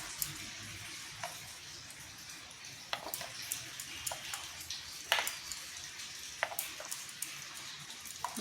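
A pan of chutney being stirred after a curry leaf tempering is added, with soft scraping and gentle sizzling, plus scattered light clinks of the spoon against the pan, all fairly quiet and close.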